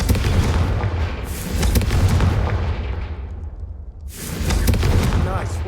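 Blast spell fired in Hogwarts Legacy, booming explosions bursting against candelabras, loud and near with a dense rumbling wash that fades briefly before another roaring burst.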